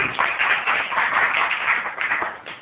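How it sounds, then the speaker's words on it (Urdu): A church congregation at a pastor's sermon claps loudly and continuously, a dense, sharp patter of many hands that swells and fades slightly over nearly three seconds with no talk. "زوردار تالی بیٹی"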